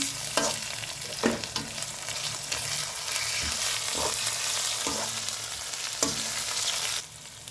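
Cauliflower fry with ginger-garlic paste and turmeric sizzles in a pan as it is stirred, loud continuous frying hiss punctuated by regular scraping and tapping strokes of the spoon, with no voices.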